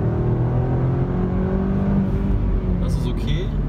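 A Jaguar XE 30T car engine pulls hard under full throttle from around 60 km/h, a steady loud rising drone heard close from inside, with someone talking over it.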